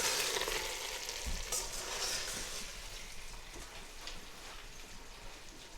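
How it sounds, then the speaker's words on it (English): Potato and cauliflower masala sizzles in a pan as it is stirred, the frying hiss continuous with scraping and soft clatter, slightly louder at the start and easing off gradually. "Just going to give it a little mix."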